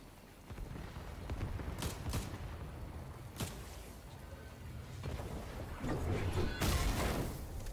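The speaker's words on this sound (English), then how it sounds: "I'm gonna throw some grenades, hold on." Fortnite battle of thrown grenades and gunfire: several sharp, loud blasts and shots burst out over a steady rumbling game din, spaced a second or two apart, with a heavier cluster near the end.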